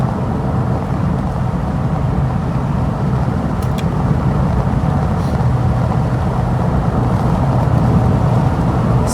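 A V8-engined car cruises along country roads into the Derbyshire Peak District, its low engine rumble steady and close throughout, mixed with road and wind noise and no talking.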